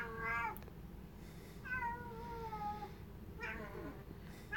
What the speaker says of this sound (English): That's my cat in the background.